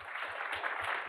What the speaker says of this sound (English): please join me in a round of applause and thanks to them